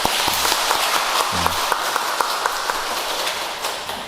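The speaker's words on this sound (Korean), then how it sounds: "박수 한번 치세요." At a Catholic parish anniversary Mass, the church congregation applauds with a dense, fairly loud patter of clapping that runs steadily for about four seconds and eases slightly at the end.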